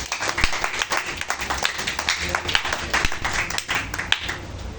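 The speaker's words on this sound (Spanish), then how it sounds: "Demos un aplauso al Señor por eso." Congregation in a church service clapping together, a dense steady round of applause with sharp individual claps throughout, fairly close and loud, no speech over it.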